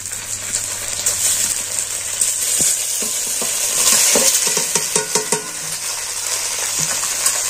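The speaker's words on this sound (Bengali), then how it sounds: "এবার আমি এটা নাড়াচাড়া করে ভেজে নেব।" Snack ingredients fry in a pan under a bright, continuous sizzle, stirred with repeated clattering scrapes and taps of a utensil against the pan, close and fairly loud.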